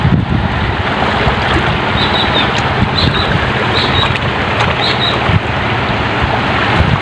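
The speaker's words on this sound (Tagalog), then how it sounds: "medyo maalon yung dagat" Rough sea churning around a small fishing boat heading out to check its nets, a loud continuous rush of water and wind buffeting the microphone with no voices.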